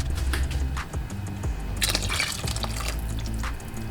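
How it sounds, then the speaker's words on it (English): Water is poured into a pot of vegan jambalaya with rice, splashing and trickling in uneven bursts with a few sharper splashes partway through. The sound is close and moderately loud, with no talking. "I'm gonna add just a little bit more water."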